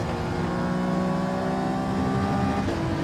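A race car engine in Gran Turismo 7 holds in third gear, a steady loud whining drone with layered harmonic tones that shifts slightly in pitch near the end, with no talk.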